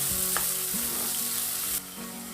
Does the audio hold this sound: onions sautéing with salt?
yes